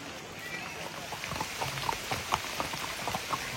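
Monsoon rain at the Matheran hill station patters steadily, with scattered droplet ticks standing out against a soft wash, and faint voices in the background.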